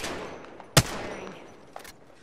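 Gunfire in Apex Legends: one sharp, loud shot followed by a fainter shot a second later, set against low background game noise.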